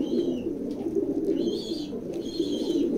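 A hen checker pigeon coos at a pigeon loft in soft repeated rounds, close and fairly steady, with no talking.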